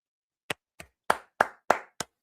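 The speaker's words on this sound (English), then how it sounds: "It's the only clap you're going to get out of me tonight" One person claps alone in a quiet room: six sharp, close claps at an uneven pace, the middle ones louder, with silence between them and no voices.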